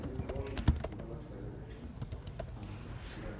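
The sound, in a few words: typing on a computer keyboard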